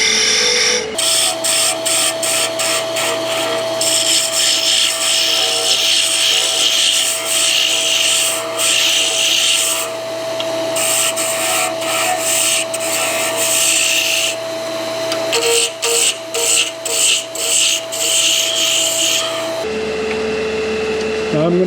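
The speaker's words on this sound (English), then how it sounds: "I'm using this spindle roughing gouge on its side and using it to make peeling cuts" A spindle roughing gouge turned on its side makes peeling cuts on a wooden Christmas sphere ornament spinning on a lathe, giving rapid rasping bursts in quick succession over the motor's steady whine, close and loud.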